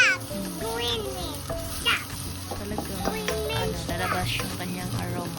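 Garlic sizzling and being stirred in a frying pan for chicken tinola, a steady frying hiss with scraping stirs, under overlapping children's voices and chatter nearby.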